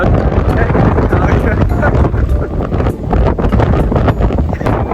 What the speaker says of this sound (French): Il y a trop de vent, je suis même pas sûr qu'on va nous entendre.